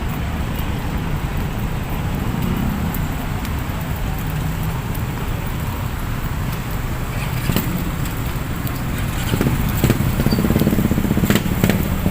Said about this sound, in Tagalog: Dami traffic ngayon, no?